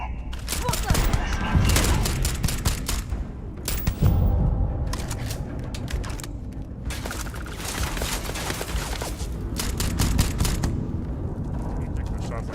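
Rapid gunfire in the Starfield video game: dense bursts of shots crackle in clusters, loud and close, over a constant rumbling backdrop, with brief lulls between volleys and a voice speaking underneath.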